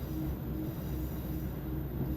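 A Sanriku Railway train running along the track, heard from inside as a steady low rumble and hum with faint tonal whine, constant and unbroken throughout.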